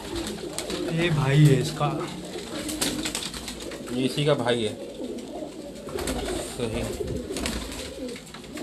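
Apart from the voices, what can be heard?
pigeons cooing on a rooftop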